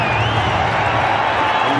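A cricket crowd cheers and applauds steadily for Shoaib Malik's century in a Pakistan vs India Champions Trophy one-day match, a dense continuous roar with some talk underneath.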